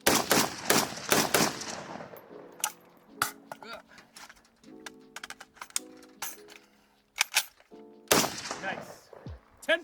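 Type 81 rifle fired on a shooting course: a rapid burst of sharp shots up front, then scattered single reports and metallic pings, with a voice speaking between shots and another cluster of gunfire near the end.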